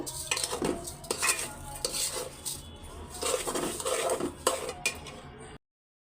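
Halwa thickening with sugar is stirred in a pan, the utensil scraping and clattering against metal in busy, uneven strokes over a soft sizzle, then ending abruptly.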